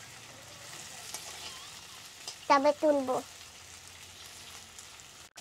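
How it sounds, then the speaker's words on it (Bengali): Small tengra fish sizzle and crackle steadily in hot oil, a close, continuous frying hiss with a brief spoken phrase cutting in midway. "আর এইগুলি আর একটু ভাজা হবে"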